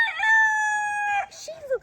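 A rooster close by gives a single loud, sustained crow lasting just over a second. A short vocal sound follows, and a person speaks at the end.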